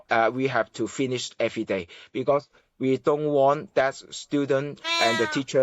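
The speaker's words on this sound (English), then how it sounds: "Sorry about my cat meowing." A pet cat meows in a quiet room during a conversation, its short cries heard intermittently beneath steady close talking.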